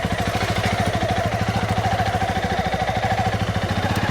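A motorcycle engine runs steadily up close, its rapid, even pulsing throb continuous throughout with no clear pause or stop.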